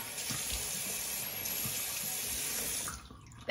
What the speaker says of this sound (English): Go down and get my face wet, Silky.